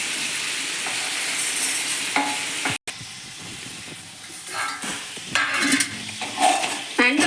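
Crab masala stir-fried in a pan with garlic and pepper, a loud close sizzle of oil with stirring scrapes, broken by a brief gap, then continued frying with occasional clinks of a spoon against the pan.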